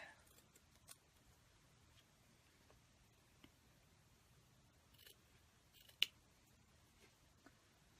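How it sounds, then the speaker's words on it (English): Scissors cutting flannel fabric for a sewn sleeping pouch, faint scattered snips and ticks spread across a very quiet room. "let me quickly cut the rest of these"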